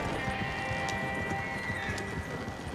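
Horses in the video game Red Dead Online, steady clip-clop of hooves with an occasional neigh, close and continuous throughout.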